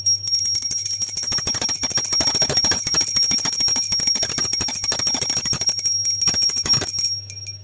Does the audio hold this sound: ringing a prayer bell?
yes